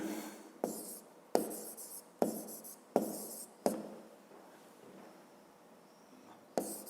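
Pen writing a math answer on paper: a series of short scratchy strokes with sharp taps as the pen touches down, close and fairly quiet, in a quiet room.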